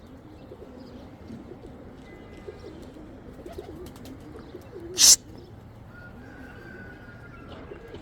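Rare Sina pigeons coo softly and steadily close by, with faint chirps and one brief sharp noise partway through, and no voices.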